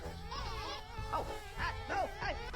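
Bees buzzing in the video game Conker's Bad Fur Day: a steady insect drone with wavering pitch, swelling in several louder pulses over a low game background, with no talking.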